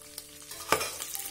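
Mustard seeds, two dried red chilies, garlic and curry leaves crackle in hot oil for a village-style festival dish, a steady close sizzle with a sharp burst midway as more goes into the pan.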